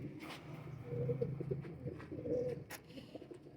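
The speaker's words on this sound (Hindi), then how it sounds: "ये जो कबूतर अभी दिखा रहे हैं ना" Pigeons coo in soft, repeated low warbling phrases, close by, with a faint chirp or two mixed in and no talk over them.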